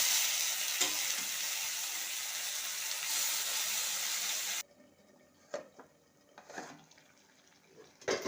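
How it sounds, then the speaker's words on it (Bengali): Pumpkin greens are tipped into a hot pan of frying potatoes. A loud, steady sizzle fills the first few seconds, then drops suddenly to quieter crackling and scattered clatter from stirring. "এইগুলো আমার ভাজা হয়ে গিয়েছে, এখন আমি এই শাকটা ঢেলে দেব।"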